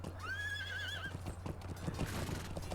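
A horse emote in the Lord of the Rings Online video game: a single wavering whinny rises and falls for about a second, then a run of clip-clopping hoofbeats follows over a steady low background hum.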